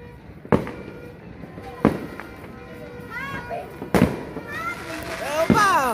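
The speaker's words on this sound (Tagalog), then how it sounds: "Diyan na po nagtatapos ang fireworks." Fireworks exploding during a neighborhood New Year celebration, several sharp loud bangs spaced a second or two apart with whistling rising streaks between them, mixed with distant crowd noise and nearby voices.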